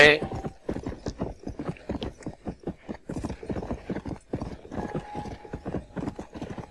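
A horse gallops in the video game Red Dead Redemption on Xbox 360, its hooves pounding in a rapid, steady clip-clop that runs throughout, with a brief whinny at the start.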